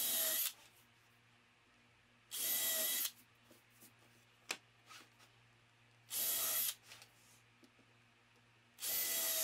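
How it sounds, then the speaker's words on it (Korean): A power drill bores screw holes to fix a wall shelf bracket to the shelf, running in four loud, close bursts of a few seconds each, separated by quiet pauses with faint handling clicks. "브라켓과 선반을 고정하는 나사홀을 만듭니다."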